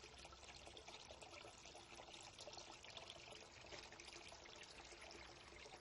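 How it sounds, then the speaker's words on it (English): Water from an Aquaworld UT-13 bait tank pump pours steadily out of the overflow on a 1990 Key West boat, a continuous close splashing trickle with no break and no voices. "we're getting water out of the overflow."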